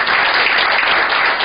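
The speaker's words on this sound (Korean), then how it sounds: "여러분 박수 환영해 주시기 바랍니다." Steady, dense applause from a church congregation at a Sunday afternoon service, loud and sustained throughout with no voices over it.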